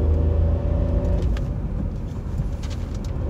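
Skoda Slavia 1.0-litre three-cylinder car cruising in third gear at about 56 km/h, heard from inside as a steady loud low engine rumble and road noise, with a few faint bird chirps outside.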